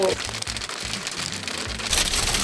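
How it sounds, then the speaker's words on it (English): A sudden hailstorm on a mountain road in the Kootenays, BC, with large hailstones pattering densely on surfaces nearby, a continuous hard clatter that swells louder at the end. "this crazy hailstorm came, and it just started dumping huge pieces of hail"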